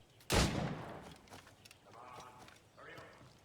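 A single sharp gunshot rings out during target practice in Assassin's Creed Rogue, loud and close, followed by softer in-game sounds and faint speech.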